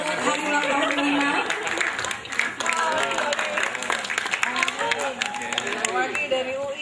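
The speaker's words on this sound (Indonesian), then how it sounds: "Tepuk tangan untuk hari ulang tahun Nina." Guests clap for Nina's birthday at an anniversary gathering, a steady round of applause from a small crowd with several voices chattering and calling out over it.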